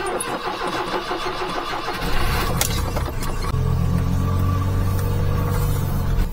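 A mini truck's engine cranks and catches around two seconds in, then settles into a loud, steady idle rumble with a low hum that holds to the end.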